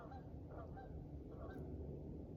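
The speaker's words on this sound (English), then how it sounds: "It was a bunch of geese that were flying by." A flock of geese flying past, their honks coming as several faint, overlapping calls spread across the stretch over low, steady outdoor rumble, with no one talking.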